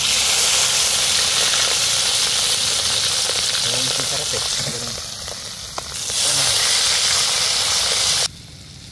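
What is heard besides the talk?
food frying and sizzling in pan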